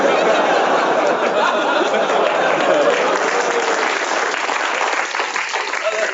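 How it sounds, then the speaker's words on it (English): A radio studio audience claps steadily with murmuring groans and chatter mixed in, a dense continuous wash of applause from a live crowd. "You groaned, but you clapped."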